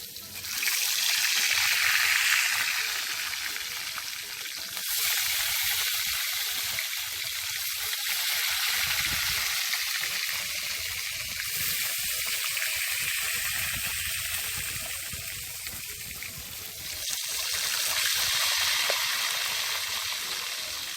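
Bammy cassava flatbread frying in oil in a pot gives off a steady, loud bubbling sizzle that continues without pause, swelling slightly in a few places.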